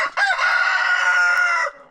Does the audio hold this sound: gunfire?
no